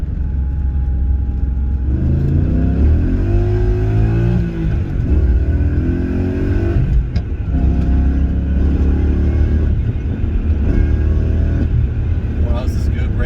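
V8 BMW E23 with a manual gearbox heard from inside while driving: a steady low engine drone rising and falling through gear changes, with someone talking over it.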